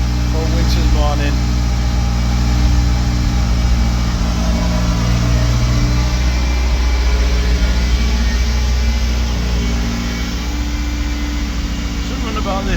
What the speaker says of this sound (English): Be a bit of a good old-fashioned cold start.